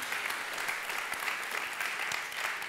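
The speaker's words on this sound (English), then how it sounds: "Ich finde, das ist ein Applaus wert." Steady, dense clapping from an audience at an art award ceremony, even and sustained throughout with no voice over it.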